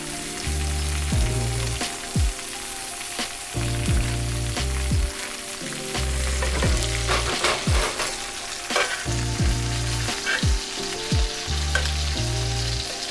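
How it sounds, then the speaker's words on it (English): Butter foaming and sizzling loudly in a cast iron pan as a ribeye steak is basted, a dense continuous crackle with a low rhythmic rumble underneath and occasional spoon scrapes. "You want the butter foaming up like that."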